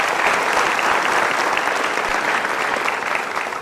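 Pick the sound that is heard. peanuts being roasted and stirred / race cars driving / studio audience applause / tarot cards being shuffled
studio audience applause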